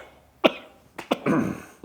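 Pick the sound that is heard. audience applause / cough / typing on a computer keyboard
cough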